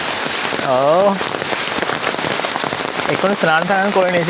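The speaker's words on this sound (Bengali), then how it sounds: "এক্ষুনি বৃষ্টি হচ্ছে, ঝমঝম করে বৃষ্টি হচ্ছে" Heavy rain pours steadily in a dense, loud hiss, with a person speaking over it close by.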